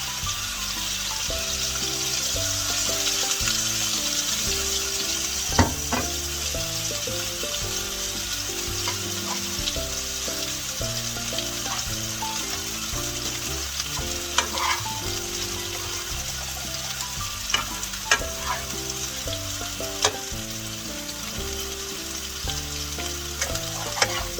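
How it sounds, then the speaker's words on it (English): Salisbury steak patties fry in olive oil in a pan, giving a steady close sizzle with occasional sharp pops and clicks; background music runs underneath throughout. "I'm going to put a little more olive oil in them, and I'm going to let them sit there and fry."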